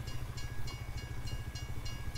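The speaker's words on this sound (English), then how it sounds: "we've got a train coming through" Train rolling past in Farming Simulator 19 on the FellsBrun map, a steady low rumble with rhythmic clacks repeating about every third of a second, loud and close, with no talk.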